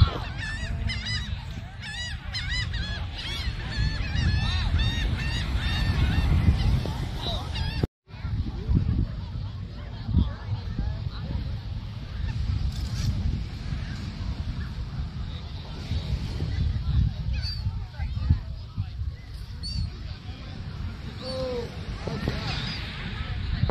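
A goose-like bird honks repeatedly in rapid harsh calls at an outdoor family getaway, close and fairly loud, with people talking at times over the calls.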